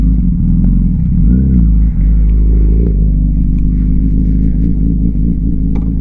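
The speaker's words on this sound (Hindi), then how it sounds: "लगा है SC प्रोजेक्ट का टाइटेनियम फुल सिस्टम एग्जॉस्ट, जो बहुत बुरी तरह दहाड़ता है" A Honda CBR1000RR special edition fitted with an SC Project titanium full-system exhaust, heard up close as a loud, deep, steady rumble with a brief blip of revs partway through.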